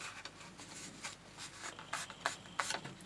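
Paper flap folded back by hand while making a square paper planter, heard as dry rubbing and creasing scrapes in short, quiet bursts that grow a little stronger toward the end, with no voices.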